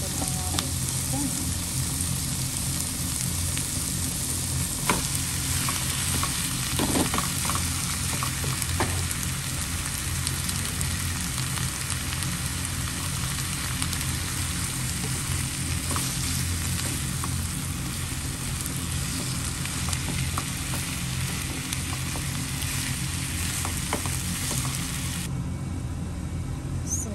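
Chicken pieces frying in a pan while cheesy chicken caldereta is cooked, giving a steady, dense sizzle that runs unbroken from start to finish, fairly close, with occasional stirring clatter and no talking.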